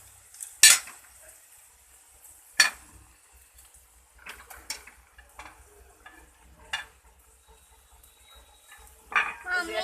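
A spoon scrapes and clanks against a pan while fried onions are stirred with salt and turmeric, sharp metallic knocks spaced apart over a faint sizzle.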